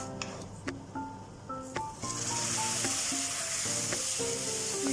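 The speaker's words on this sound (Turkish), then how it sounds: "şehriyelerimi kavurdum şöyle hafif pembeleşene kadar. Ve şimdi suyumuzu ilave edelim." Water is poured into a pot of toasted vermicelli for pilaf, and a loud, steady hiss of sizzling suddenly takes over from the quieter stirring and background music.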